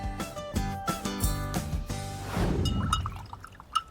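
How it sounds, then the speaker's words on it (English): A paintbrush swished and tapped in a glass of water during a children's painting session gives bright tinkling rings and liquid sloshing, several quick clinks followed by a longer swirl, close and clear. "I love the tinkling, swishing sound of my paintbrush in the water glass."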